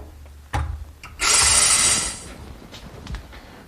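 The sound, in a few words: drilling with drill bit into corner brace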